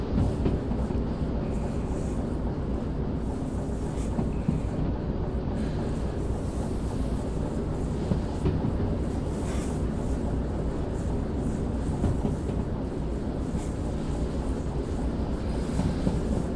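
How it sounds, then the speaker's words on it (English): In the train game Derail Valley, a locomotive idles while coasting downhill, giving a steady low rumble with rail and wind noise that holds even and unbroken throughout. "Just idling the engine, coasting down all these hills."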